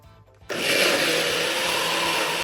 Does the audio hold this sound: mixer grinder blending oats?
yes